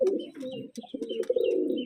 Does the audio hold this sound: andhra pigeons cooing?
yes